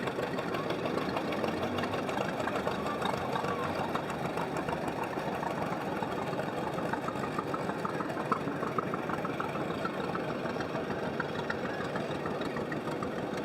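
A John Deere tractor engine runs steadily at a Veterans Day parade, a continuous mid-low idling rumble with a faint knock, moderately distant and without talk.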